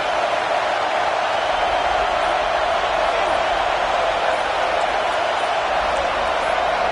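Steady roaring stadium crowd noise from an American football video game fills the whole stretch at a constant loud level, a dense wash with no breaks, as fans try to disrupt the offense.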